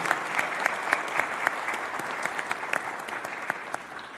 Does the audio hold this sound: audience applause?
yes